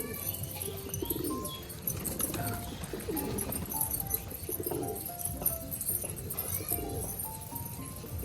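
Pigeons coo softly and continuously while being fed corn outdoors, with overlapping bird calls, shuffling and pecking noises, and no talking.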